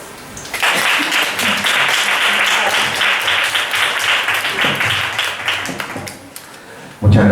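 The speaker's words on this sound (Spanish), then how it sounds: "Un aplauso." An audience at a poetry reading bursts into steady, dense applause that carries on for about six seconds before fading into a voice.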